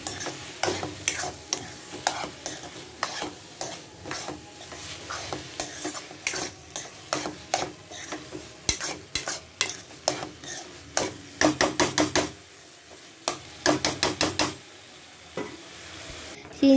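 Carrot halwa is stirred in a pan with rapid, repeated scraping and clinking of a spoon, over a low sizzle, continuing for most of the stretch with brief pauses.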